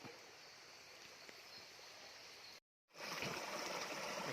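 Steady broadband rush of a flowing stream, close and continuous, with a brief dropout of silence near the end before the water noise returns.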